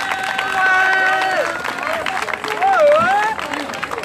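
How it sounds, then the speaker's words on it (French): A crowd of mountain bikers gathered outdoors before a group ride claps and cheers for the newcomers, lively applause mixed with excited voices and chatter throughout. "On les applaudit"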